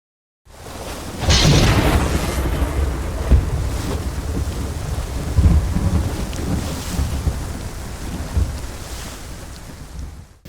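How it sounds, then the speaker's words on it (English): Low, rolling rumbles of thunder under a steady wash of heavy rain, with a louder crack early on and distant booms continuing throughout, heard in the background outdoors. "If you listen very closely, you can probably hear some of the thunder in the background"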